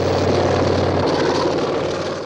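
Helicopters flying 30 tonnes of food supplies from Stralsund to snowbound Rügen island in winter 1978–79; a steady, loud rotor and engine drone fills the whole stretch with a low hum, alone without voices.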